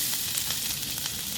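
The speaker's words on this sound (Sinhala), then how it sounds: "අපි මේ විදිහට මුලින්ම සුදු ලුණු ටික දා ගන්නවා" Garlic fries in oil in a pan for mie goreng, a steady, bright, close sizzle with no talk.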